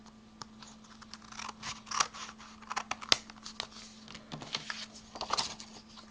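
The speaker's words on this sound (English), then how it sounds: "And flip this over and cut it." Scissors snip through patterned craft paper while a handmade card is assembled, giving a string of close, crisp cuts with small paper rustles in between over a faint steady hum.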